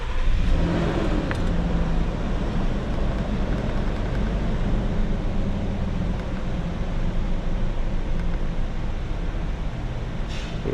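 A car engine running, a loud, close, continuous rumble and whir that holds steady throughout with a slight surge near the start.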